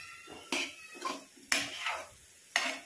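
Crispy fried soya chunks are scooped from a pan onto a plate, giving a few sharp metallic clinks and scrapes of utensil on cookware at roughly one-second intervals, close and alone.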